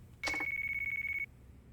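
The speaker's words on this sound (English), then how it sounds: "Tanimura's phone is ringing" A mobile phone rings in the video game Yakuza 4 Remastered, a single electronic ringtone sounding as a rapid pulsing steady tone for about a second, close and clear, then stopping; no one speaks.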